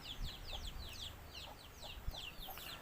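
Chickens cluck and chirp in a quick, repeated series, heard faintly at a distance against low background noise.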